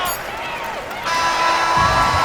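A home crowd cheers and whoops at a basketball game victory, the noise swelling and staying loud while a commentator talks over it.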